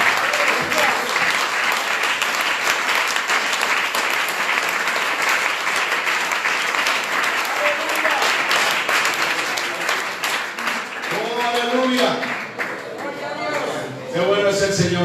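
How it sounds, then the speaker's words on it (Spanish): A church congregation at a Spanish-language service bursts into sustained, loud applause that fills the space throughout, with voices rising over the clapping toward the end. "Un aplauso al Señor."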